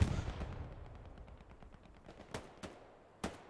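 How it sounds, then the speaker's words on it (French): Gunfire from a WWII battle at Foy in a video game, with sharp, distant-sounding shots and ricochet cracks sounding three times over a low rumbling battlefield background. "J'entends des ricochets là"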